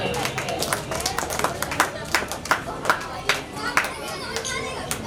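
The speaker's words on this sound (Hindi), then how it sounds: "आप लोग जोरदार ताली बजाएंगे।" An audience claps irregularly at an Ambedkar Jayanti celebration held by Dr Ambedkar Classes on 14 April, with scattered claps over a steady background of children's voices and crowd chatter.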